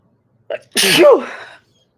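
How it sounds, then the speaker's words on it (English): A single sharp sneeze, close and loud, with a brief intake of breath just before it. "Oh, sneeze."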